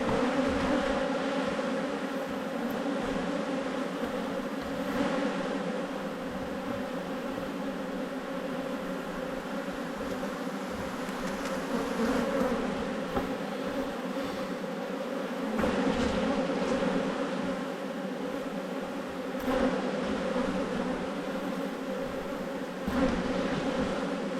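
Honeybees hum steadily over a hive frame held up from an opened hive, a dense, continuous close buzz that swells and eases slightly without a break.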